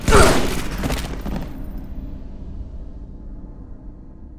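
Gunfire from a machinima video game: a loud, sharp burst of rapid shots up front that decays within a second or so into a low lingering rumble and quiet tail.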